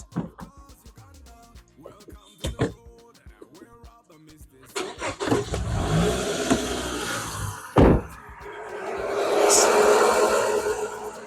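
A Toyota RAV4 with a 2AZ engine cranks and catches about halfway through, then settles into a steady, fairly loud idle. People talk over the opening before the start.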